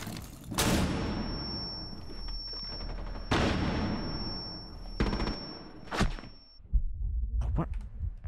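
Gunfire in Rainbow Six Siege on the reworked Kafe map, several sharp loud shots and short bursts spread across the stretch, with a sustained high tone and brief muffled voice sounds between them.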